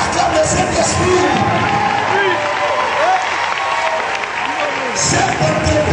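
A church congregation applauds and cheers, with sustained clapping, whoops and shouts under a leader's voice speaking over the crowd.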